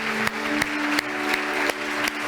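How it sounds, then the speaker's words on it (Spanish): A church congregation claps in a steady rhythmic beat, each clap roughly a third of a second apart, over a sustained musical hum. "Dale un aplauso al Rey."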